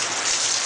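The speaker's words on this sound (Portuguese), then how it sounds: "Mas anual chove no Ibaí, hein?" Rain pours steadily, a dense bright hiss of drops striking surfaces, loud and continuous with no voices.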